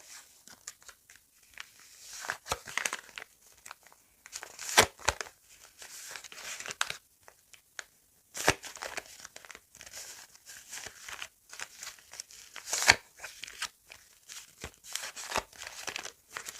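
Steady crinkling and rustling of thin paper sticker packets being handled up close, with sharp crackles scattered throughout.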